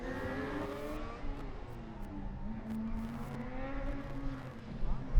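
Formula Student race cars running on a track, a steady engine drone with rising and falling pitch as the cars pass at a distance, swelling louder near the end.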